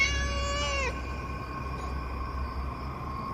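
A cat gives one drawn-out meow that falls in pitch and cuts off, followed by a steady low hum and drone that fill the rest.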